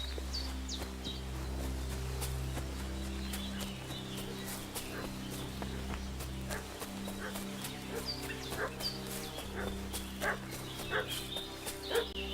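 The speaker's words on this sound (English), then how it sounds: "What's that dog making such a fuss about?" A dog barks in short, scattered yelps over a low, steady drone in the video game Kingdom Come Deliverance 2, with faint hoof clops mixed in.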